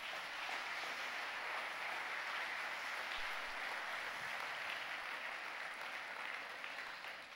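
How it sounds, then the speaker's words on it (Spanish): A church congregation applauds at length, a broad even wash of many hands clapping at once that stays steady, fairly distant and soft, with no voices over it. "Dale un fuerte aplauso al Señor."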